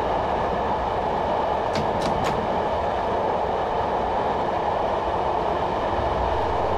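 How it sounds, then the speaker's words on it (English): An electric Class 421 train coasts with the power shut off in Train Simulator 2015 on the Brighton to London Victoria route, giving a steady rumbling rolling noise with a few brief high squeals near the start. "I'm going to temporarily shut off power and allow the train to coast"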